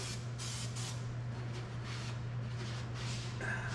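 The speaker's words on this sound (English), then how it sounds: "So I'm gonna spray it with some brake clean." Repeated short hissing bursts of an aerosol spray, close and steady, over a constant low hum.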